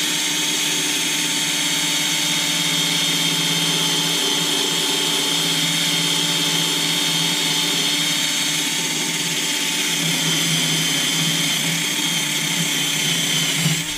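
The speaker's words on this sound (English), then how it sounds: "we're gonna wire brush this" A power tool wire brush working on a Fiat Punto HGT suspension wishbone, giving a loud, steady high-pitched whirring drone that holds constant throughout with slight scraping variation, close up and with no talk.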